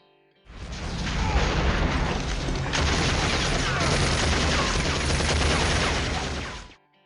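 Dense, sustained gunfire from the theatre battle in the 1997 film The Fifth Element, a loud unbroken barrage of rapid shots and booms lasting about six seconds, starting and stopping abruptly.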